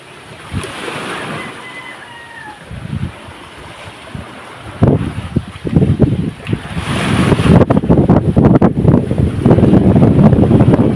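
Ocean waves surge and crash with gusty wind buffeting the microphone, the surf growing louder and rougher toward the end.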